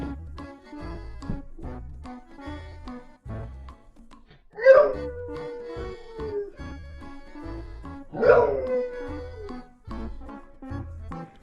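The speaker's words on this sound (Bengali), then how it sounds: "কুকুরটি খেলনাটি নিজে না তুলে তার মালিককে ডাকতে শুরু করে খেলনাটি তার কাছে তুলে দেওয়ার জন্য" A dog gives two drawn-out, falling whine-like calls a few seconds apart, wanting its dropped toy picked up, with rhythmic music running underneath.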